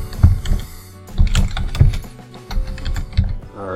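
Typing on a computer keyboard, with quick, uneven clusters of clicking keystrokes at close range and a few heavier taps among them.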